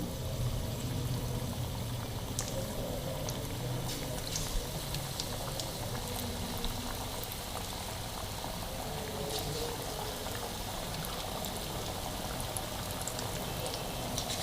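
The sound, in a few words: chicken frying in hot oil in a kadai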